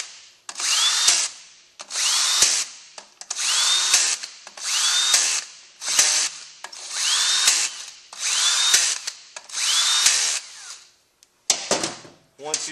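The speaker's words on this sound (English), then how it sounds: "Once all your bolts are started, you want to kind of take them down at A little bit tighter than finger tight." A power tool runs valve body bolts down on a Toyota A340 transmission in about eight short, evenly spaced bursts of whirring, each a second or so long, close and loud, with a few quick clicks at the end.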